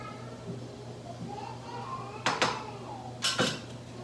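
Noodles stirred in a pot for dinner, with two sharp clattering scrapes of a utensil against the pot over a steady low hum and faint background voices.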